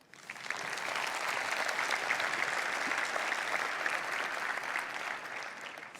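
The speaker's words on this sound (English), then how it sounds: "it would be nice to give him a round of applause" A conference audience at a Vue.js event in Amsterdam applauds steadily for several seconds, a dense, even wash of clapping that rises quickly and fades slightly at the end, with no talking.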